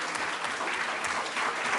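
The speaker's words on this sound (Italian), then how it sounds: "con l'applauso che facciamo adesso al professor Papaccio" An audience at a talk applauds Professor Papaccio, a steady, dense wash of clapping from many hands that fills the short moment without any voices.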